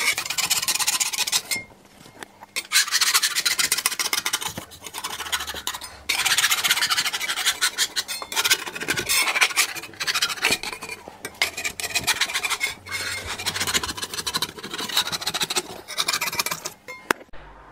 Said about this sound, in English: Another day of sanding.